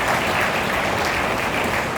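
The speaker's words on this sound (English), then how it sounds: "you may wish to clap." An audience at a university congregation breaks into applause, a dense, even wash of many hands clapping at steady loudness throughout, with no break or speech over it.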